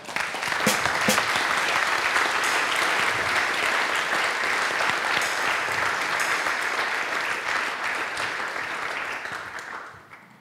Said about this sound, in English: First, a warm applause